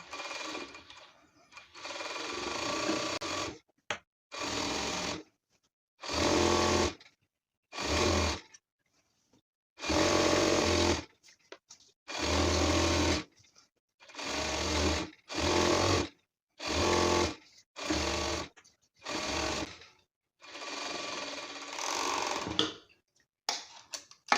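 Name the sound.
overlock sewing machine hemming stretch velour chair cover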